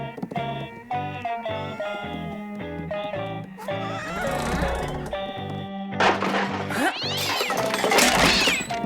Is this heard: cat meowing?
yes